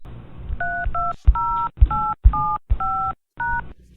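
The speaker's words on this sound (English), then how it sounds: "Please enter your passcode." A telephone keypad sounds a run of about eight distinct DTMF tones in quick, slightly uneven succession while a voicemail passcode is entered. The beeps are clear and close, separated by short gaps and handling clicks, and no voice is heard.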